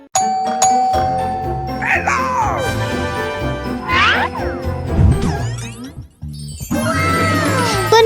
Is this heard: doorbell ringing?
yes